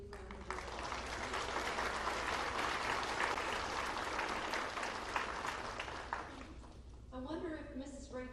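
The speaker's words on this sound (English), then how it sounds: "Would you please give these individuals a great big round of applause?" A graduation audience breaks into a big round of sustained applause, a dense wash of many hands clapping across a large hall, fading near the end as a voice comes in over it.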